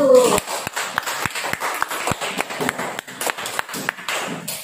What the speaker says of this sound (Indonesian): kita beri tepuk tangan untuk kelompok 1